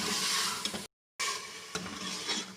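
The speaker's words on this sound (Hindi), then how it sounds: "फ्राई करेंगे अदरक लहसुन के साथ।" Beef sizzles and is stirred in a pan with ginger and garlic for Amritsari beef hareesa, a steady close frying hiss broken by a brief silent gap, with scraping stirs and no talking.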